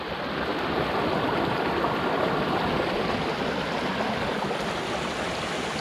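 A heavy volume of water rushes through a roadside culvert in New Brunswick, making a steady, loud, continuous roar of flowing water with no pauses and no voices.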